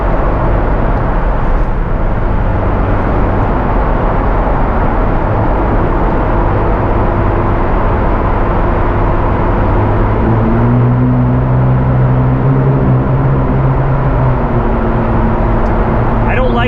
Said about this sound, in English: We're basically driving underneath the Chesapeake Bay at Baltimore Harbor.